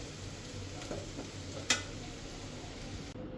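Potato bhaji sizzles steadily in a pan while a utensil stirs it, one sharper scrape or knock standing out midway over the continuous frying hiss, with no talking.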